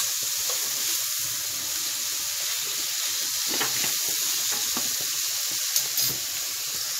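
Chopped onions frying with seven-spice blend in a pan, a steady loud sizzle throughout with occasional scrapes and stirring clatter from a utensil, no talking.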